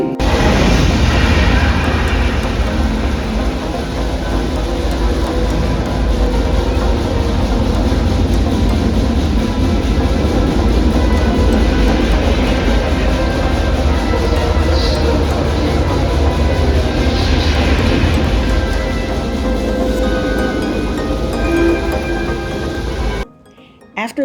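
A deep, loud, sustained rumble with a booming low end fills a room recreating the Apollo 8 Saturn V launch, where the launch was watched and controlled at Kennedy Space Center, and cuts off abruptly near the end.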